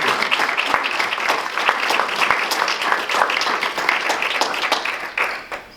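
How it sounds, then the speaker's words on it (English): An awards-ceremony audience gives steady applause for an Outstanding Achievement Award winner. Individual claps stand out within the sustained clapping, which tapers off near the end. "please have a round of applause for Virginia Lehman"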